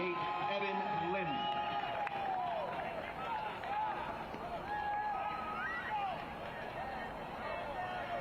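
A home crowd at a Crown Legacy FC versus NYCFC II professional soccer match cheers after a goal, a broad sustained roar with whoops and shouts, slightly distant, as voices talk over it.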